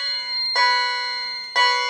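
A photoelectric smoke detector being tested with a magnet sounds a shrill electronic alarm, beeping in two loud, sustained tones, each starting abruptly and holding steady, with no voices.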